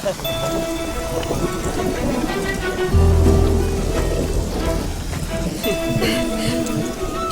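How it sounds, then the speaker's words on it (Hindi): Heavy rain pours steadily, close and loud, with a deep rumble of thunder rolling in partway through. "बारिश में भीग के देख, इसका भी मजा अलग ही है।"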